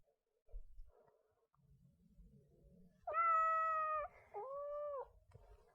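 Cartoon cat meows in the cozy video game Calico: a bright, drawn-out meow followed by a shorter second one, close and clear over soft background music.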